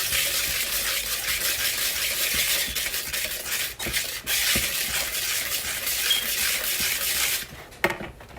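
Steady wet rubbing and stirring as a bourbon butter sauce for bread pudding is mixed in a bowl, a continuous close hiss with occasional knocks, ending in a brief scrape.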